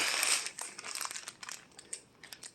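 Three-inch foam sheet being custom cut to size as padding for a sled, giving a run of soft crinkling, crunching cuts and scrapes in an irregular rhythm, close and fairly quiet, with no voices.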